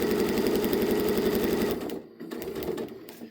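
Up close, a sewing machine stitches scrappy fabric hearts in a fast, even run of rhythmic clatter that stops abruptly, then resumes more softly in short stuttering stitches.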